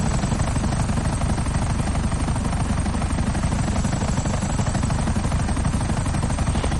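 Helicopter in the video game GTA 5 flying at speed, a loud, steady rotor roar and thudding chop that runs unbroken throughout with no voices.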